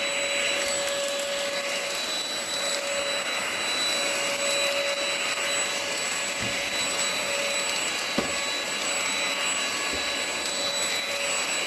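An INSE N-5 cordless vacuum cleaner runs with a steady, loud high-pitched whine and airy rush, holding constant throughout with a couple of faint bumps and no talking.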